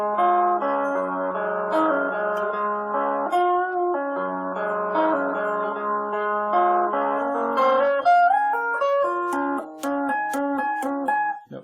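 A slow run through the tapped-guitar intro and verse of a song, with bright, ringing two-hand tapped notes in a steady, repeating melodic pattern, played alone and close.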